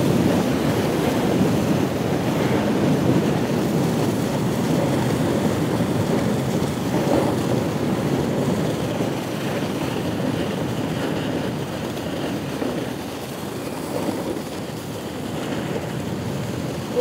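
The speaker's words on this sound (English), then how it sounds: "there's quite a headwind today" A strong headwind roars past a snowboarder riding downhill, making a continuous low rushing buffet of wind noise that swells and eases slightly over the run, with no talking.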